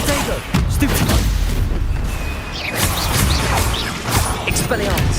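Booming spell explosions from a Confringo curse in Hogwarts Legacy, several heavy blasts and crashes bursting close and loud in quick succession, with a voice shouting over them.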